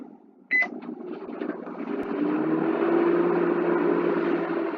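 A microwave oven runs with a steady close hum and low drone after a brief click and beep-like start, holding level and continuous to the end, with no talk.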